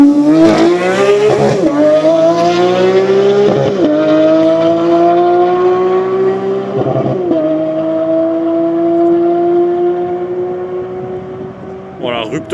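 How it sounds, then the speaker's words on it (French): A flat-six car engine held against its rev limiter, a loud, steady high-pitched wail with repeated sharp cuts as the limiter chops in, close by at a tuning meet in Osaka, with voices in the background. "rupteur de flat 6"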